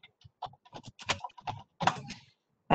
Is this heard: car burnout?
no